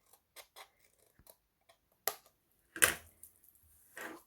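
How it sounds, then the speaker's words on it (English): Scissors trim the ends of a card strip for a Valentine's craft project, making a run of quiet, sharp snips and crisp cutting crunches, close and irregular, with no talk. "if you just get some scissors and then just trim away a fraction"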